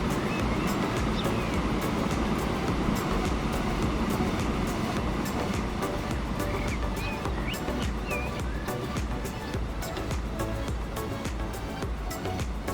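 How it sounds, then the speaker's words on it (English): In Transport Fever 2, a train rolls along a railroad in a steady, continuous rumble with faint clicking of wheels over track joints, moderately distant and unbroken. "We'll enjoy this little train rolling past together then."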